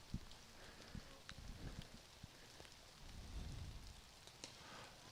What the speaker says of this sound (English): Got a steady rain here in the bottom of the first from Birch Hill Field.